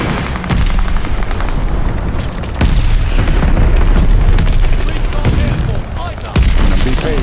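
A glide bomb explodes in a Call of Duty Vanguard team deathmatch on Desert Siege, loud repeated booming blasts with gunfire, heavy and continuous, under occasional player voices.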